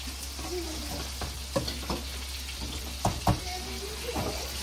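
Pasta stirred in a pan with a few soft scrapes and clinks against the metal, over a low steady hum and faint background noise.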